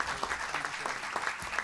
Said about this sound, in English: How about another round of applause for Secretary Rick Perry